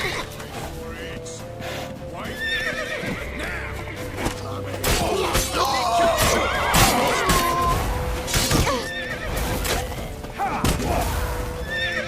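A horse in The Witcher III whinnies loudly while hooves pound at a gallop, mixed with crashes, thuds and the bustle of an in-game chase.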